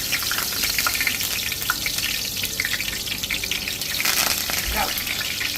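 Curry leaves dropped into hot oil for frying pearl spot fish, giving a continuous loud crackling sizzle that swells slightly toward the end.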